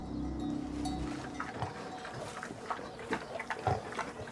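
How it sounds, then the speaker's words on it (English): Domestic pigs grunt and snuffle in a farm setting, with irregular low grunts that come quickly and close over a continuous murmur of livestock. A few louder snorts come near the end. "Pigs and cows, sheep and goats, domestic animals."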